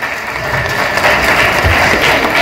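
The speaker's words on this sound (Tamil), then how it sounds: "ருத்தி யந்திராவுக்கு ஒரு நல்ல கைத்தட்டல் கொடுத்துருங்க" Loud, steady applause from an audience at an awards function fills the space as a continuous broadband wash of clapping.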